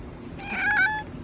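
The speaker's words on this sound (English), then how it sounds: "I knew she was gonna meow in distress." A cat lets out a single drawn-out, distressed meow, rising and wavering before trailing off, close by against a quiet room.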